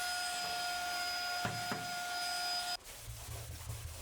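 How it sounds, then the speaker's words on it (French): Vacuum cleaner working inside a Peugeot 205 GTI interior: a steady whining drone with a high tone, a couple of bumps and a change in pitch partway through, near and loud. "Un petit coup d'aspirateur"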